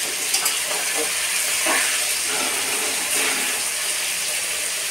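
Potato and eggplant pieces fry in plenty of oil in a pan, giving a continuous loud hissing sizzle with occasional stirring bursts.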